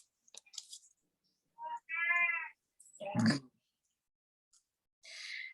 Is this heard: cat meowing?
yes